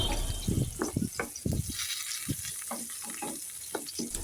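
Potato pieces frying in oil in a pan for an egg and potato curry, a continuous close sizzle with intermittent scraping and stirring knocks from a spoon, no talk.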